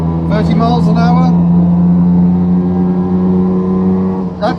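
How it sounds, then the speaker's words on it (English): A Daihatsu Fellow Max car drives at about 30 mph, heard from inside the cabin as a loud, steady, low engine drone. A person speaks over it at the start and again briefly at the end. "we are motoring 30 miles an hour"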